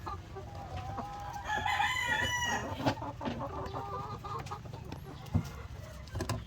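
Laying hens cluck in a dusty, sandy coop where eggs are being collected, with close, repeated clucks, a rising drawn-out cackle and scattered pecks and rustles over a constant low hum.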